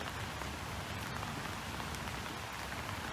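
Steady rain falling on a surface, a dense even hiss of drops with no voices, constant and moderately distant throughout.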